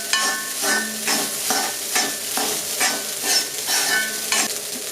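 A spoon scrapes cumin rice around a pan over a low flame, with repeated rhythmic stirring strokes and a soft sizzle underneath, close and with no talk.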